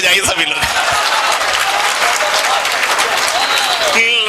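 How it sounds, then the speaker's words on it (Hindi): An audience at a Hindi poetry recital in Jhansi breaks into loud, sustained clapping that fills the space evenly for several seconds, with an announcer's voice briefly audible at the start and end. "तालियां उठाइए एक बार, तालियां बजाइए सभी लोग।"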